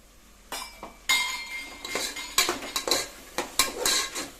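Carrots, beans and peas being sautéed in oil for wheat rava kichadi, a spatula scraping and clinking against the pan in irregular strokes over a faint sizzle, close and fairly quiet.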